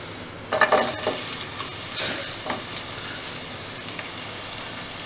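Chopped onion drops into hot ghee in a pan and starts frying, a sudden loud sizzle that settles into a steady crackling hiss with a few stirring scrapes.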